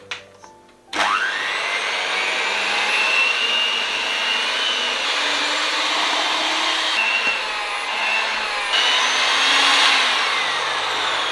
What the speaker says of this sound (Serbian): A sada je potrebno da sve dobro umutite mikserom